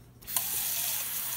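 Tap water running onto egg-yolk-stained fabric samples being washed in plain water, a steady close splashing hiss that starts after a brief quiet moment.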